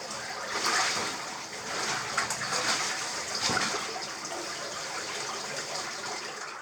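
Water running and splashing in a wet cave passage, a steady broadband wash with close splatters throughout and a brief louder splash near the middle.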